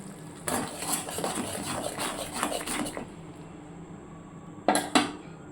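Potato biryani being stirred as kewra water and rose water go in, heard as a steady run of clinking and scraping against the pot for a few seconds, then a quiet pause and two final metallic knocks.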